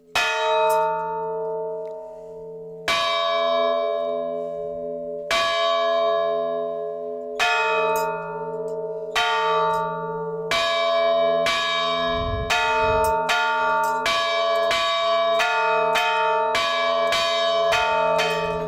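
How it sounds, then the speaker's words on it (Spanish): Church bells ring a death knell in a village in El Bierzo, with repeated loud clangs at a steady, unhurried pace whose strikes grow closer together toward the end, each ringing out with a long, resonant decay. "se avisaba así a través de las campanas"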